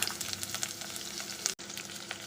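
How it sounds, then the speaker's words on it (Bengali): Chopped onion dropped into hot oil alongside already fried small shrimp in a home kitchen, a steady close sizzle with a sudden brief cut-out near the end before the frying hiss resumes. "এখন দিচ্ছি পেঁয়াজ।"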